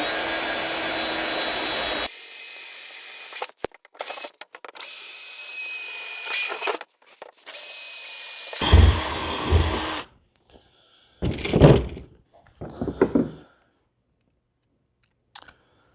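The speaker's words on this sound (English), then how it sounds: "basically now I'm just going to pop some rivets in and hold it in place" A rivet gun popping rivets into a jet sled rail, with several bursts of mechanical whirring and clicks separated by pauses and near silence, recorded close.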